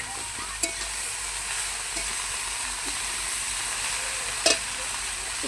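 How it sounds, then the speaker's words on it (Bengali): Cabbage, shrimp and peas with turmeric fry in a pan while being stirred, making a steady, soft sizzle with a few sharp clicks and scrapes of the spatula. No one speaks. "একটু নেড়ে নেব ভালো করে।"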